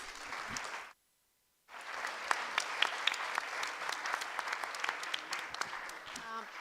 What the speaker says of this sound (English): Big applause for the group here, please.